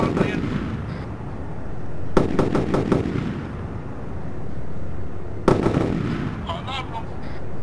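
Arma 3 gunfire: two sharp bursts of rapid rifle shots, each a quick string of cracks with rolling echo, separated by a stretch of quieter background noise and muffled talk.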